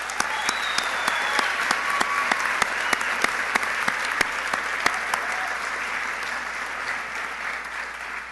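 An audience at the 2015 Nex+Gen Academy graduation ceremony applauds: dense, sustained clapping with sharp individual claps standing out, steady throughout and fading slightly toward the end.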